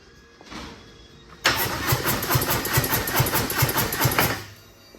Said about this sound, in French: l'échappement est mis, tout est remonté, il ne manque plus qu'à démarrer.